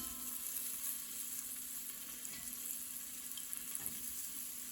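Meat coated in seasoned flour browning in a pan for a stew, a steady close sizzle with soft stirring scrapes and no voices.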